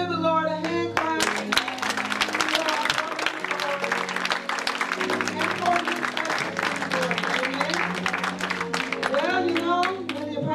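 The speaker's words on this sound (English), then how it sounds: "So let's give the Lord a hand clap." A church congregation claps hands together in dense, sustained applause, loud and close, with voices and shouts mixed in throughout.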